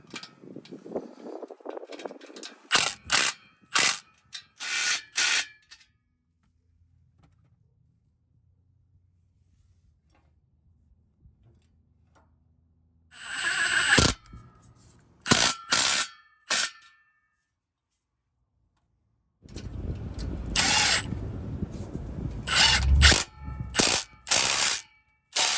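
Ratchet tightening exhaust clamps on an MBRP 3-inch exhaust for a 2014 Ford F150 EcoBoost, close crisp clicking bursts in several rapid runs separated by quiet pauses.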